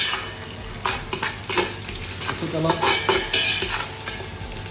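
Spice paste of green chillies and ginger frying in a pan for mutton yakhni pulav, stirred with steady scraping strokes over a continuous close sizzle; a voice speaks briefly.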